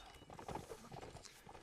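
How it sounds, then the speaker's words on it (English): Horse hooves clip-clop faintly in a Napoleonic Wars line-battle video game, a quick run of soft, distant hoofbeats under a low background wash. "Who brings his horse to the bloody party?"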